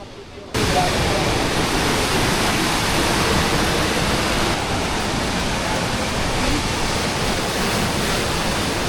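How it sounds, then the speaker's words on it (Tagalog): Aw-Asen Falls, the tallest waterfall in the Ilocos Region, roars as a loud, dense, unbroken rush of falling water heard from a distance before the base, starting abruptly after a short quiet moment. "ramdam na yung lakas ng bagsak ng tubig"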